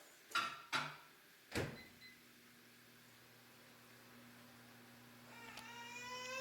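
A few beeps and a door thud, then a microwave's low steady hum running on, with another beep near the end.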